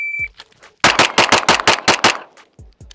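A pistol fires a rapid string of eight sharp, loud shots during a timed shooting drill, evenly spaced over about a second and a half after a starting beep, followed by quieter clicks.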